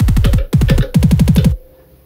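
Digitone synth drum sound with the arpeggiator at 1/32nd note speed: three bursts of very rapid, pitch-dropping low thumps blurring into a buzzing roll, loud, ending with a short faint tail.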